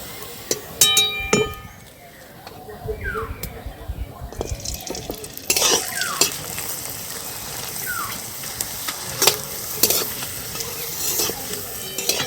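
Potato jhuri papad frying in hot oil, with a steady sizzle and bubbling alongside intermittent stirring scrapes and light clinks of a utensil against the pan, close and continuous throughout.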